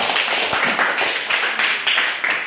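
A small group of students claps for a classmate in an Indonesian classroom lesson: a brief, uneven patter of hand claps, fairly close and moderately loud, with no talk over it.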